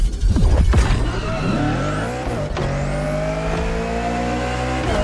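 A race car in The Crew Motorfest video game roars at full throttle with loud, sustained engine drone and rising revs, tire squeal and skidding cutting in near the start and again midway, close and continuous without talk.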